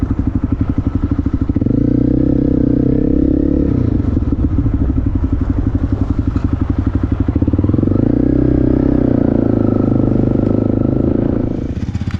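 Two dual-sport motorcycles, a KTM 790 and a Honda CRF250L, ride together on a rough desert track near Loreto, Baja, their engines droning loud and steady with shifting pitch and occasional clattering thumps from the terrain.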